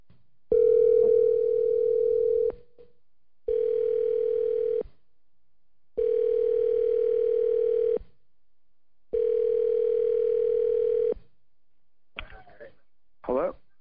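A telephone dial tone sounds while calling Jack Frost, steady bursts of about two seconds repeating four times with short silent gaps, followed by a couple of brief clicks near the end.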